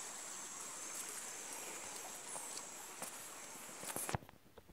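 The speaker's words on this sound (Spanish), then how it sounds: "debajo de esas piedras está el río." A river flows beneath stones near the Cueva de los Guácharos in Amazonas, heard as a faint, steady rushing wash of water with a few scattered clicks and scuffs.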